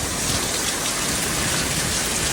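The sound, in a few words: heavy rain and hail storm in Phoenix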